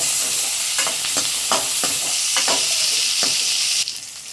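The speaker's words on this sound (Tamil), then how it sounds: "வெங்காயம் போட்டதுக்கப்புறம் நம்ம பூண்டு வந்து கொஞ்சம் அதிகமாகவே சேர்த்துக்குங்க" Garlic sizzling in oil with onions for a coconut-free okra tamarind curry, a loud continuous fry broken by regular stirring scrapes about every half second, then a sudden drop near the end.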